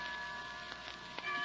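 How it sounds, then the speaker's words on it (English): Chimes ring softly in an old radio drama, with sustained bell-like tones and a few faint metallic strikes, quiet and alone. "Why don't we both just sit here and listen to the chimes for a while?"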